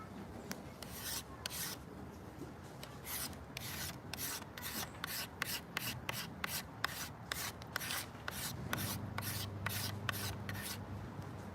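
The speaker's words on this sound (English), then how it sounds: "We'll do another 25 to 50 scrapes." A maple selfbow is scraped during tillering in a long run of rhythmic rasping strokes, roughly two per second, close and steady with a low hum underneath and no speech.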